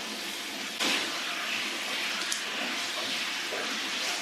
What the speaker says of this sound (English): we're just going to be sauteing some white onion and a little spice mix here